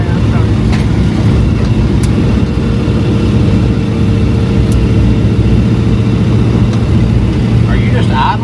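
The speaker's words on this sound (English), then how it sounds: "Are you just idling right there?" 1984 square body pickup truck engine idling, a loud, steady low rumble close by, with people talking over it.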